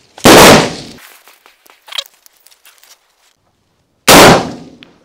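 Two loud, sharp shots from a Chinese airsoft M4 replica rifle ring out about four seconds apart, each with a short decaying tail, separated by quieter clicks and handling noises.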